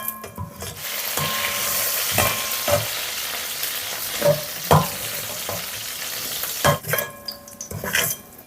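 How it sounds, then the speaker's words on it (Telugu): Tomato pieces and gongura leaves sizzle softly in a pan over a medium flame while a spoon stirs and scrapes the pan now and then, with a few sharp knocks, close up and without talk. "ఇందులోనే ఒక పెద్ద సైజు టొమాటో ముక్కలు, కడిగి పెట్టుకున్న గోంగూరని వేసి స్టవ్ని మీడియం ఫ్లేమ్లో పెట్టుకొని మధ్య మధ్యలో కలుపుకుంటూ"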